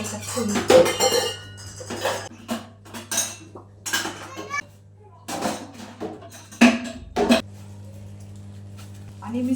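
Washed steel dishes and utensils are put away with a string of sharp clinks and clatters close by, scattered unevenly between pauses, while someone talks at times.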